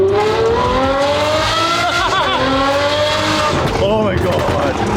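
A loud Ferrari sports car engine revs hard, pitch sweeping up and down through gear changes, with a person talking faintly underneath.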